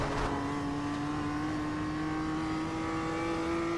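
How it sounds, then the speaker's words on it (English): A BMW M2 CS in the iRacing sim pulls hard through the gears on the Summit Point circuit, its engine note a steady, rising drone that climbs smoothly in pitch, loud and close with no talk over it. "Getting on the gas nice and early in third gear. Back up to fourth"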